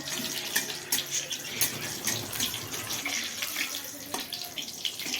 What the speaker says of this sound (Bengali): এবার আমি গরম তেলে ছেড়ে দিলাম কাটলেটটা।